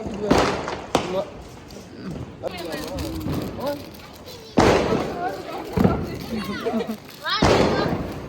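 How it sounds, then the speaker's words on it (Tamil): Diwali firecrackers go off in several sharp, loud bursts, some booming and some crackling, spaced a second or more apart, while people talk and call out excitedly between and over the blasts. "வெடிக்கலாமா?"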